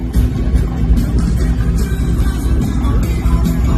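A hot rod rolls past on a street tour stop in Indianapolis, its deep engine rumble loud and steady throughout with a dense low-end roar and no talk.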